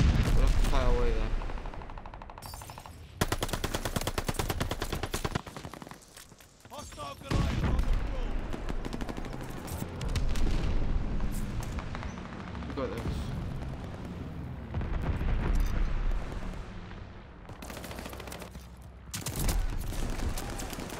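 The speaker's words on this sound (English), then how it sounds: "Friendly glide bombers" Glide bomber strike explosions in the video game Call of Duty: Vanguard, repeated loud blasts and rumbling booms mixed with gunfire, surging in waves, while someone talks over the din.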